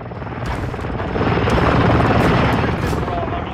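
In an online shooter game, a helicopter thunders overhead, its loud rotor roar swelling and holding steady over a few seconds.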